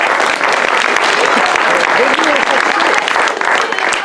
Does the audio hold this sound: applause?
yes